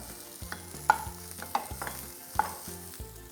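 Quick stirring of Kashmiri chili powder and tomato in a frying pan, with a few sharp utensil scrapes and knocks over a soft sizzle, close and moderately quiet, no talking.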